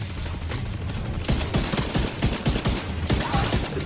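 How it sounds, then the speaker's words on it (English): Gunfire in the video game The Division 2: loud, dense bursts of rapid automatic shots crackling continuously, growing sharper and heavier midway through, with no speech over them. "Taking fire."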